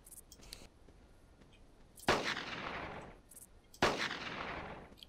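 Two loud pistol shots ring out in Carnivores Genesis while hunting in a swamp, each a sharp crack followed by a long echoing decay, spaced about two seconds apart over quiet ambience.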